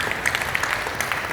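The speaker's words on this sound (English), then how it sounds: "Let's just give them a round of applause." Audience applause at a live health seminar, steady crowd clapping with a few louder claps standing out, filling the whole short moment with no voices over it.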